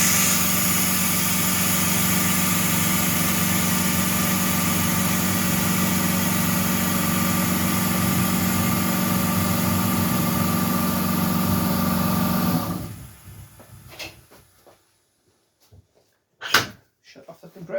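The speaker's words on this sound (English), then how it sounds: "Shut off the compressor so you can hear me." An air compressor drones loudly and steadily for about twelve seconds, then cuts off, leaving near-quiet with a few knocks and a short remark.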